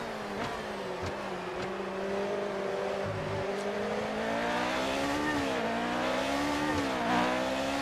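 A McLaren M23-D with a 2,993 cc Ford Cosworth engine racing in the F1 2019 game, a loud, steady, high engine whine that rises and dips through gear changes and revving, with faint tire squeal and no talking.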